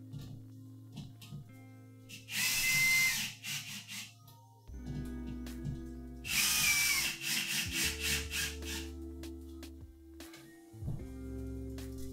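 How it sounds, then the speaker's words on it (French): A power drill drives screws into wood during a DIY decor build: a humming motor tone runs throughout, broken by two louder, harsher bursts of whirring and grinding as the screws bite. "On va finir de visser ça."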